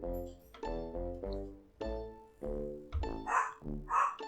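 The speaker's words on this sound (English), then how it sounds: "I'll check why the dog is barking." A dog barks repeatedly nearby, a series of sharp, tonal barks with short pauses, some rising into higher yelps toward the end.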